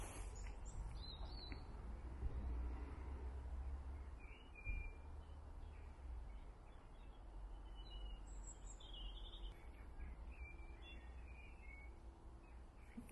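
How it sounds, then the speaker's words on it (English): Faint birdsong drifts in from a distance: scattered chirps and short whistled phrases over a low, steady outdoor rumble, quiet and sparse. "Hopefully it's picking up the bird song"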